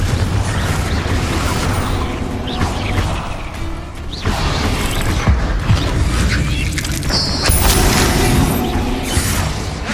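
Spell blasts and combat in Hogwarts Legacy, with loud, continuous booms, whooshes and crashing impacts layered densely together, no pauses between hits.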